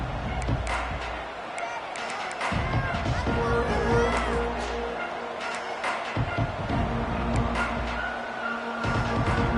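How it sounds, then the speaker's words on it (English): Football stadium crowd roaring early in a Missouri game, a broad sustained wall of cheering with surging swells and thumping, while a commentator talks over it. "It's early, but this crowd is fired up. Listen to this noise here."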